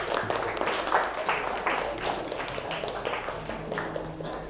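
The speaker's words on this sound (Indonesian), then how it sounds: "beri aplaus buat teman Anda" A classroom applauds a student, with steady clapping from several people continuing for a few seconds at moderate loudness.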